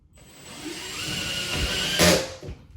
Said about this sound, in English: give it a good little push there, and then just drill it in.